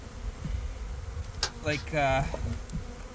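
Honey bees buzz softly around spring colonies in cold Manitoba weather, a faint steady drone with a few brief louder passes near the microphone and a quiet voice in the background.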